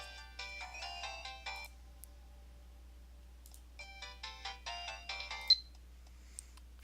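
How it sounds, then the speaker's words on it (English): A phone vibrating and chiming in the visual novel Steins;Gate, two bursts of rapid ringtone-like tones separated by a pause, clean and moderately quiet with no talk. "My phone suddenly starts vibrating."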